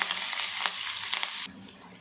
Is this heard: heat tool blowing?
no